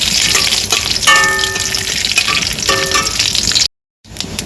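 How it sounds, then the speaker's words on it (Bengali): Bay leaf, dried chili and whole cumin spluttering in hot oil, a loud close sizzle with scraping stirs and brief ringing metallic tones, cutting to silence for a moment near the end. "তো এবারে দিয়ে দেবো তেজপাতা, শুকনো লঙ্কা আর গোটা জিরে। ফোড়নটা আমি ভালো করে ভেজে নেব।"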